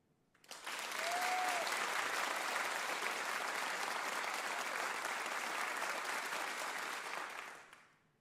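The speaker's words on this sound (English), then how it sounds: "Not a bunch of cheering and stuff, just nice applause." An audience at a live acoustic music broadcast gives a warm, even round of applause, rising quickly, holding steady for about seven seconds, then tapering off, heard at a moderate distance with no cheering.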